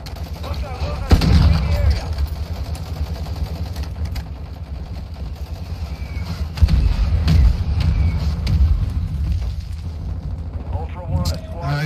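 Gunfire in Call of Duty DMZ, sharp loud reports and booming blasts scattered through the clip amid bursts of shooting, with players talking excitedly over the action.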